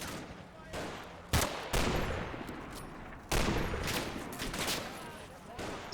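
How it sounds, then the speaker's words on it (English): Suppressive gunfire from infantry companies in the WWII wargame Combat Mission, Operation Epsom: dense overlapping rifle and machine-gun bursts crackle steadily, with sharp loud volleys breaking in repeatedly over a continuous rattling background. "I order B and C Company to lay down suppressive fire"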